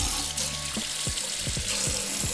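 Faucet water runs steadily into a bathroom sink with the stopper in, a close, continuous splashing rush with small gurgles.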